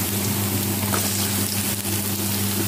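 Onion frying in hot oil for a home lunch with shing fish: a steady crackling sizzle throughout, close and fairly loud, over a low constant hum.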